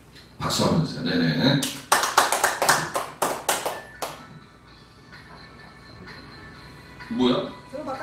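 Applause at a live music show breaks out in a short burst of sharp, rapid hand claps, then fades back under ongoing talk.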